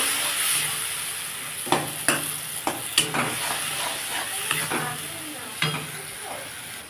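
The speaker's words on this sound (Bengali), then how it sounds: "এটাকে আমি ভালো করে কষব" A paste of cumin, chili, turmeric and poppy seed sautéing in a pan for raw banana kofta curry, with a steady sizzle and a spoon knocking and scraping the pan in several sharp strokes.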